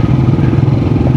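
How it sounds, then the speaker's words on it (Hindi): A motorcycle engine labours in first gear while creeping through a traffic jam on a mountain-pass bike tour, giving a loud, close, steady throbbing drone throughout with no voices. "बाइक का अच्छा खासा ज़ोर लगने वाला है यार"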